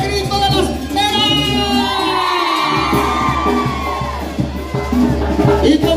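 A party crowd of single women screams, whoops and cheers loudly and continuously at a live show, a dense wall of voices with music beneath.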